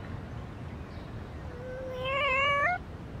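A single drawn-out cat meow rises and wavers before cutting off, heard close over a low background hum.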